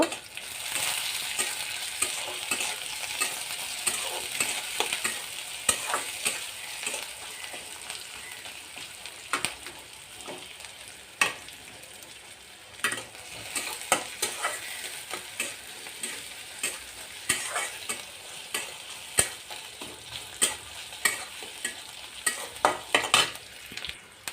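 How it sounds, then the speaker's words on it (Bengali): Green chillies and chopped onion stirred and lightly fried in a pan, a steady bright sizzle running throughout with irregular scraping and clicking of a spatula against the pan, close and fairly loud, no voices. "এখন নেড়ে চেড়ে একটু হালকা ভেজে নিব।"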